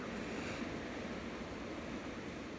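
Hurricane Ian's wind gusts roar as a continuous, fairly faint broadband rushing, steady and unbroken like distant surf, with no voices.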